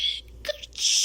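A storyteller's voice imitates a sneeze while reading The Tale of Peter Rabbit aloud, a short breathy, hissing "ker-choo" burst, close and clear, lasting about a second.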